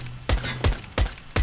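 Gunfire in the video game Counter-Strike: Global Offensive, four sharp loud bursts in quick succession with short gaps between them, close and alone.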